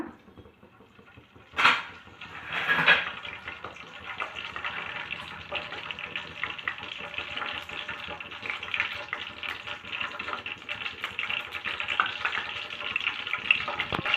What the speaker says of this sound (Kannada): ನಾವು ಈಗ ಇದರಲ್ಲಿ ಸಾಸಿವೆನ ಹಾಕೋಣ.